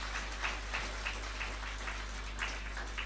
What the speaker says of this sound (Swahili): Mpigie makofi mzuri.